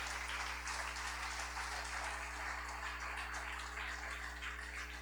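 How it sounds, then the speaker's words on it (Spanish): A church congregation applauds during a service, a thick, even wash of clapping at moderate distance over a steady low electrical hum, continuing without pause. "vamos a darle un aplauso al Señor por esa bendición"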